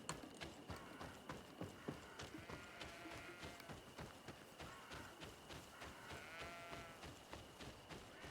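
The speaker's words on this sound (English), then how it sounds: "If I can hear sheep, I can't see any sheep." Sheep bleating in the video game Greedfall, heard faintly within a busy game soundscape alongside rhythmic hoof-like clopping and other ambient game noise, with no talking.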